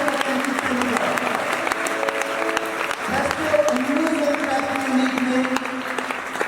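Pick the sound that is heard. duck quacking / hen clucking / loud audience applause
loud audience applause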